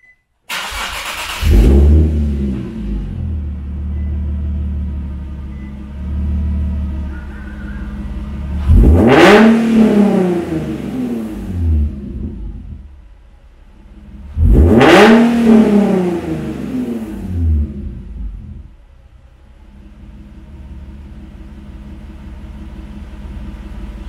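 A car engine cranks and starts, then revs up sharply twice, each rev swelling and falling back to a steady idle rumble between them.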